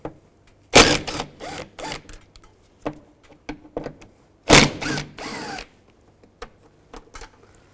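A power driver with a T30 socket gives two short, loud whirring bursts among clicks and handling noises while removing screws from a door lock actuator on a 2006–2011 Cadillac DTS, close up in a quiet space.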